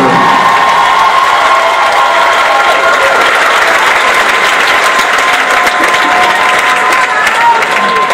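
A graduation audience at an arts school gives a loud, close, sustained round of applause for the Student Theater class, dense clapping mixed with cheers and whoops throughout.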